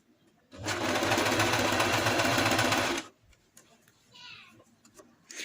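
A sewing machine stitches an elastic waistband in a loud, fast, steady whirring burst of about two and a half seconds, followed by quieter handling noises and faint voices.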